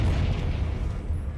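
A Confringo fire-blast spell in Hogwarts Legacy bursts with a loud booming rush, a dense explosive impact that stays heavy for the whole short moment.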